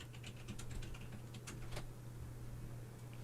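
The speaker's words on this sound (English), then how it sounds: "Pay no attention to the typing in the background as Ryan." Typing on a computer keyboard in the background, a run of light, rapid key clicks that stops partway through, with a steady low hum underneath and no talking.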